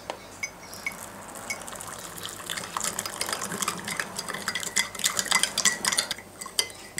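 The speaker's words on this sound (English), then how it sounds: "And then I just add the boiling water." A spoon clinks and scrapes quickly against a container while boiling water is stirred with sugar and borax, the rattling growing busier and louder toward the end.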